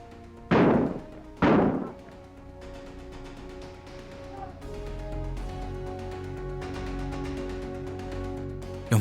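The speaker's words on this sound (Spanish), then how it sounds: "Nuevas bombas de gases. Pasaron exactamente sobre nuestra cabeza." Two loud, sharp thumps of tear gas canisters being fired during street clashes, close and abrupt, followed by a lower murky background of distant noise and rumble.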